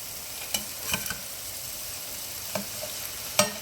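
Salmon frying in a hot pan for hibachi-style cooking, a constant close sizzle broken by several sharp spatula clicks and scrapes spaced a second or so apart.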